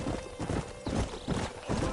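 A horse gallops in the Western video game Red Dead Redemption, its hooves pounding out rapid, rhythmic clip-clops. The beat is close and loud throughout, with a whinny mixed in.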